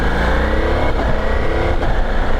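A Ducati Multistrada V4S motorcycle pulling away in fourth gear gives a loud, close, continuous engine drone that rises steadily throughout, with no voices.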